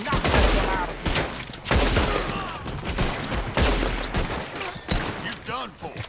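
Heavy bursts of gunfire from a Red Dead Redemption 2 shootout, rapid overlapping shots and booming reports in several volleys, loud and close, with raised voices mixed in.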